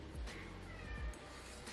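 A pet cat meows while its owner cooks, a couple of short close cries rising over a steady room background with no talking.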